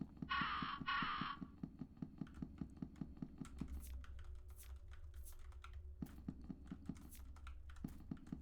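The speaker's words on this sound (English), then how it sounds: "The crows are feasting on the body." Crows caw several times in the video game Fear & Hunger: Termina as they feast on a body, the calls ringing out amid rapid, close keyboard-like typing clicks and scratchy taps.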